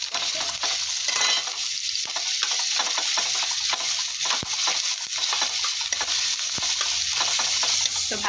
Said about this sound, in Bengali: তো চলো শাকটা ভাজি করে নিই